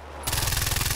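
Burst of rapid automatic gunfire in Far Cry 4 starts abruptly after a brief quiet moment, a dense rattling stream of shots, close and loud, with no voices.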